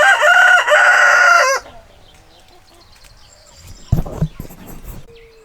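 A naked neck hen under a tree gives a loud burst of rooster-like crowing and clucking for about a second and a half, followed by quieter scattered clucks, a brief rustle, and a faint short call.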